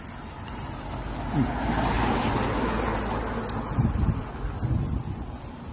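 Cars and trucks pass on a roadway as steady rumbling traffic noise, heavily mixed with gusting wind buffeting the microphone, with a louder passing surge around the middle.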